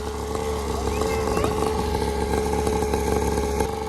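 A motocross motorcycle engine runs close by, buzzing with rising pitch sweeps as the throttle opens, harsh and continuous, with voices faintly underneath.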